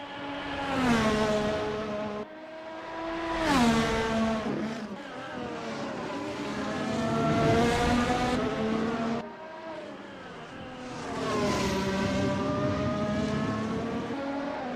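Race cars lapping the Hungaroring in a sim racing game, engines wailing through repeated rising and falling gear changes, loud and continuous with passing swells.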